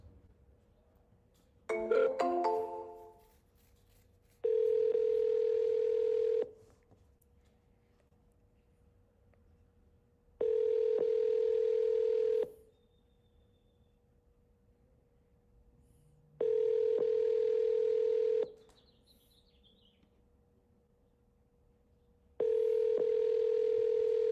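Phone dialing: a quick burst of dialing tones at the start of an outgoing call, then four evenly spaced ringback tones, each about two seconds long with quiet gaps between them. No one speaks.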